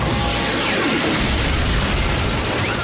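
Loud, dense cartoon weapon fire and explosions from Transformers Prime, a continuous roaring barrage of booms and bursts with no gaps throughout.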